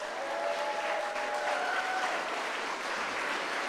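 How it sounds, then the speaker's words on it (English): Dense, even applause from a gala audience at the C31 30th broadcast anniversary celebration for Shane, holding steady throughout with a faint whistle-like tone early on. "so can we please give him a big round of applause?"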